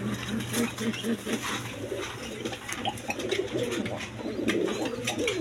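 Quality pigeons in a pair kept for sale, the female near laying, give low repeated coos over a steady background hum, with a faint voice in places.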